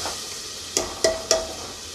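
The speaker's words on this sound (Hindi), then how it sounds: "ये वही मसाला है जो जिसमें हमने प्याज, लहसुन, अदरक, हरी मिर्च डालकर एक पेस्ट बनाया था" A paste of onion, garlic, ginger and green chilli fries quietly in a pan under a soft steady sizzle, broken by three quick scraping stirs close by.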